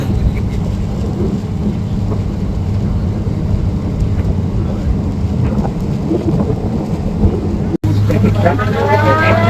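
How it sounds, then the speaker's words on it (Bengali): Heavy sudden rain pours down on a river as a passenger launch crosses a channel, a loud dense roar with rumbling low end, steady throughout. "নদীতে প্রচুর বৃষ্টি হচ্ছে হঠাৎ করে হচ্ছে এখন শ্রীপুর ঢোকার সাথে সাথেই মেঘের সাথে সাথে বৃষ্টি শুরু হয়ে গিয়েছে"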